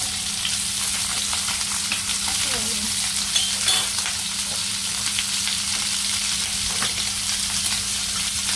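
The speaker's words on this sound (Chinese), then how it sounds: "跟住呢度用埋佢啲油嚟爆洋葱，洋葱咧就爆香少" Onions frying in rendered pork fat give a loud, dense, continuous sizzle with faint stirring scrapes throughout. No voice is heard.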